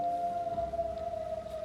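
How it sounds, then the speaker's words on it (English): A steady siren wails through the whole stretch, holding a sustained tone at moderate volume against a low rumble of outdoor ambience, with no talk over it. "that siren is really giving me the ache"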